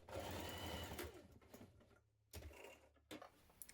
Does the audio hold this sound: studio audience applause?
no